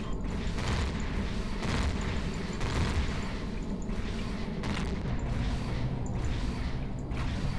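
Heavy weapons fire and explosions pound a ship in Empyrion Galactic Survival, a dense, continuous rumbling barrage with repeated booming impacts throughout, loud and close with no pause.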